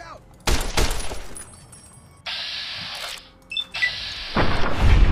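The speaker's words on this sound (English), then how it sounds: "Why can't I shoot him in the head?" Gunfire from the video game Fallout New Vegas: a few sharp shots near the start, then longer bursts of game noise and firing, close and fairly loud.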